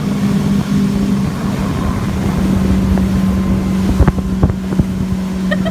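A motorboat runs planed out across the water with a steady loud engine drone, wind buffeting the microphone and a few knocks from the hull.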